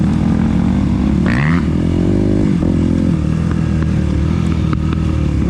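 A Suzuki RMZ 250 dirt bike rides through the woods, its engine loud and close throughout, revving up and down with rattles and clatter from the rough trail.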